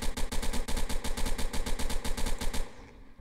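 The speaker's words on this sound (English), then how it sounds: "Here's the assault rifle." Assault rifle in a video game firing in rapid automatic bursts, a steady rattling stream of sharp shots for under three seconds before it stops abruptly, leaving quiet.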